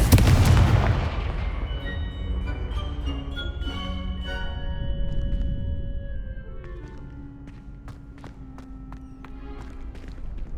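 A Confringo fire spell in the Hogwarts Legacy video game bursts with a loud, booming blast at the start, then fades into sustained game music and scattered small effects.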